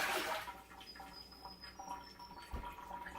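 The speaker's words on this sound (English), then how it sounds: "I'm going to put some of the salt water solution in there." Salt water solution pours into a pot for pickling olives, a soft steady trickling and splashing heard faintly and close by, with no talk.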